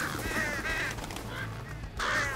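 Noisy birds, likely geese, honking in a few loud, harmonic calls near the start, middle and end over steady low background rumble.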